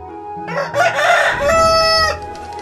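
A rooster crows loudly and close by, one long drawn-out cock-a-doodle-doo rising and holding before fading, with a faint cluck around it.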